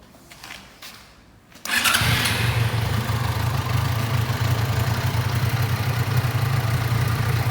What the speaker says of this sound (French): la moto elle tourne comme une horloge